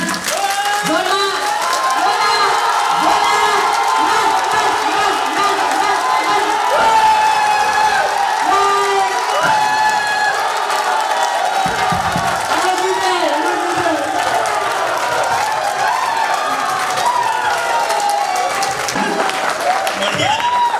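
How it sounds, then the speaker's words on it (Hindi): A large crowd at a motivational team-building event claps steadily and cheers for about twenty seconds, loud and sustained, with scattered shouts and whoops rising over the dense applause. "आवाज ताली हो गई, ढोल की नहीं आई"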